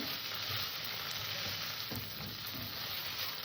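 Poppy seed paste sizzles steadily in a hot pan, a continuous close frying hiss with faint stirring scrapes throughout and no voices.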